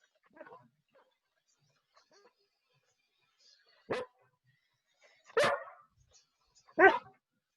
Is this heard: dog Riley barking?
yes